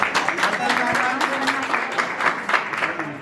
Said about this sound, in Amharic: በጣም አንሷል ጭብጨባ።